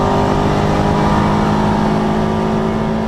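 Toyota MR2 roadster race cars accelerating down the Dunlop Straight at Donington Park, a loud, steady engine roar that fills the whole stretch with no break.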